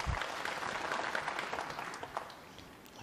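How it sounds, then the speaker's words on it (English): Spectators at a snooker semi-final between Mark Selby and Stuart Bingham at the 2016 International Championship give brief, moderate applause, a soft patter of clapping from a distant crowd that gradually thins out. "Applause for the first red potted."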